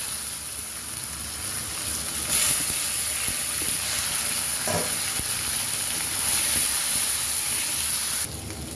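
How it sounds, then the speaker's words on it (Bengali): Onions frying in hot oil with panch phoron give a continuous loud sizzle and hiss that stays steady throughout, heard close with no speech. "এখন ঢেলে দিলাম কিছু অনিয়ন"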